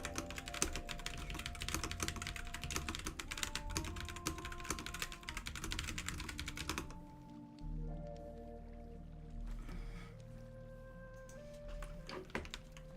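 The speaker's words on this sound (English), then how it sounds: "I'm sure that typing is coming through." Continuous, fast clattering keystrokes on a computer keyboard, close and steady, with a brief lull partway through before the typing resumes; soft background music plays underneath.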